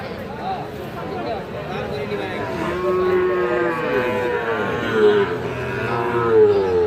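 Sahiwal cattle moo in long, low drawn-out calls amid a busy outdoor crowd at a cattle market, with people talking in the background throughout.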